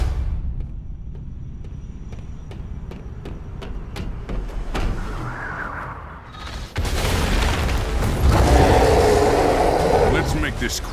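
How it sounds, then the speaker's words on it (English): A big explosion at the Golden Gate Bridge in the Marvel's Avengers video game: a series of sharp booms, then a loud, sustained roaring blast that fills the scene, with voices heard around it. "There is an iconic explosion at the Golden Gate Bridge."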